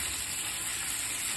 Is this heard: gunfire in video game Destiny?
no